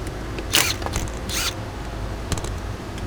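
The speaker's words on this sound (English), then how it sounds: "Just getting this additional absorber up, trying to wring it out a little bit." Padding of sound absorber being pulled up from the floor of a 2017 Volkswagen Tiguan interior, giving a couple of sharp creaking, tearing rips close up against a steady low background hum.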